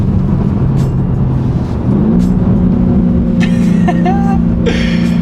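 A BMW G80 M3 engine with manual transmission drones steadily, then the pitch jumps as it revs through a downshift, with a brief higher whine near the end.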